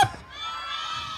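Children shouting hooray together at a first birthday party with a clown entertainer, a brief loud burst of young voices that quickly settles into a sustained crowd cheer.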